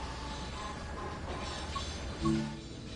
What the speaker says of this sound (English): Sounded like the train was sneezing.